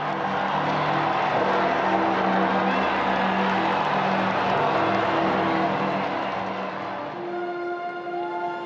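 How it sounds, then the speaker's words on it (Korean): Tens of thousands of people cheer and roar together in St. Peter's Square as a new pope is elected, a dense, steady wall of crowd noise that thins near the end while ringing tones emerge. "광장에 모인 수만 명의 사람들의 환호와 함성"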